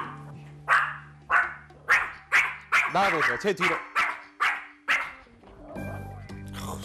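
An anxious, overexcited problem dog barks loudly and close in a house, about nine sharp barks in a steady series, ending with a whine. A person speaks briefly over the barking.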